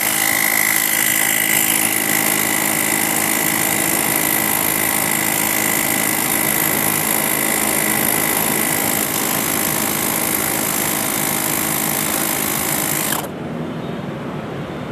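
A Dyson handheld air pump runs loud and close with a shrill, buzzing motor whine, holding steady for most of the stretch before abruptly cutting off near the end, leaving a quieter hum.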